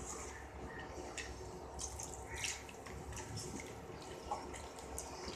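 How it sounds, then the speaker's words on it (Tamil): Water is poured into a pot of vattha kuzhambu curry in a home kitchen, a quiet, faint trickling and dripping stream with soft splashes throughout, no talking. "தேவையான தண்ணி கொஞ்சம் ஊற்றிக்கோங்க."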